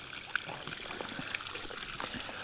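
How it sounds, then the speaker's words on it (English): Fresh spring water trickling out of the ground at an old spring resort site, a soft steady babble and dribble heard fairly close, with faint splashy accents and no talking. "This is just flowing out of the ground."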